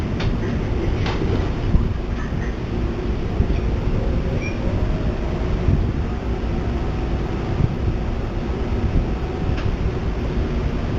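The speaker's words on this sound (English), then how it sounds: "Please stand clear. Doors are closing. Train is about to move." Dense, rumbling noise fills a subway or train station as a train idles before its doors close, with faint clanks and squeals over a continuous low roar and no clear speech.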